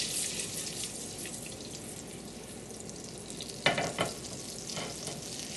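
Butter and a little cooking oil heating together in a pan for shrimp, giving a steady close frying hiss with a couple of louder stirring scrapes near the end and no talk.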